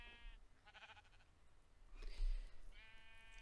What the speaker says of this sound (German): Ist das ein pinkes Schaf?